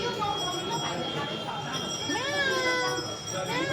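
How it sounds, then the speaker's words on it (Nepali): A street cat meows at Basantapur Durbar Square in Kathmandu, Nepal, with rising and falling cries over steady crowd noise, while people talk nearby. "हेर्नु न यहाँ बिरालो नेपालको बिरालो चाहिँ यस्तो हुन्छ"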